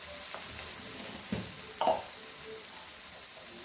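Poha upma sizzles softly in an oil tempering in a pan, with quiet frying crackle and a few scraping stirs of a spoon against the pan.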